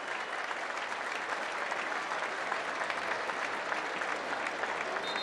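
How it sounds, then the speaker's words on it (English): Fans inside Houchens-Smith Stadium at a UTSA vs WKU college football game applaud in a steady, dense wash of clapping and crowd noise, heard from a distance with no voices. "a gracious round of applause from the fans inside Houchins Smith Stadium"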